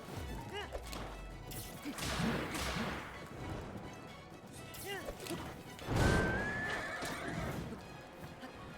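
Horse whinnies several times over clip-clopping hooves and crashing hits in a Zelda game set in Hyrule, close and fairly loud, with a voice talking in between.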